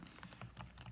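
Fingers tap a calculator keypad in a quick series of about eight soft, close clicks, quiet and evenly spaced, with no voices.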